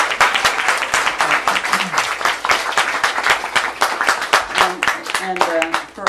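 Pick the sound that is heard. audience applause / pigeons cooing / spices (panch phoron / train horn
audience applause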